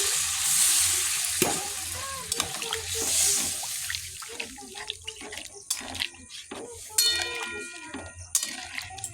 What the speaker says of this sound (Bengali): এবার জল দিয়ে দেবো, পরিমাণ মতো জলটা দিয়ে দেবো।